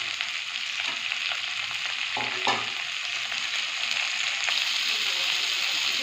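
Chopped green chili and capsicum frying in a pan for chilli cabbage, a loud, steady hiss of sizzling oil throughout, close up, with a few faint spoon scrapes and no talking.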